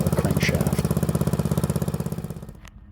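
A 1955 Wheel Horse garden tractor with a Wisconsin AEN engine idles close by with a steady, lumpy chugging pulse, running unevenly before it tapers off near the end.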